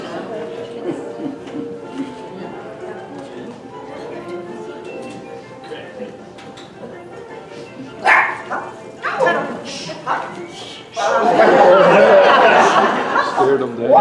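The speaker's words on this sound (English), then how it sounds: "little dogs, now I've got to warn you that Charlie is a speed demon" Small circus dogs yip and bark at a club circus show, short bursts of barking rising over a busy, talky crowd and a loud stretch of noise toward the end.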